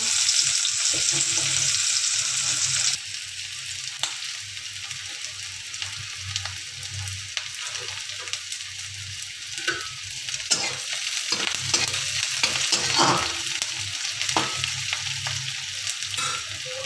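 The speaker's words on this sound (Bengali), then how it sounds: "তেলেতে পেঁয়াজ কুচি দিয়েছিলাম" Chopped onions frying in hot oil while making Bengali egg curry, with a steady sizzle throughout, brief stirring scrapes and clatters, and a denser, louder hiss during the first few seconds.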